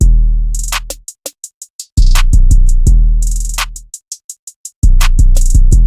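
A sharp, snappy clap repeats in quick bursts between loud, sustained bass-heavy tones, punchy and upfront in a looping electronic beat.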